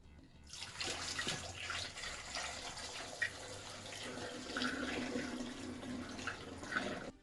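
Liquid pours steadily into a container with a continuous splashing, gurgling rush, fairly close, running for several seconds without talk.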